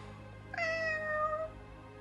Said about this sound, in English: Here we got a cat and a group of cats.